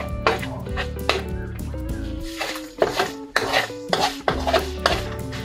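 Spoons or utensils clatter and scrape against a bowl or pot while alamang bagoong, a shrimp paste ginamos, is stirred together with seasoning, giving repeated close knocks and scrapes in an irregular rhythm.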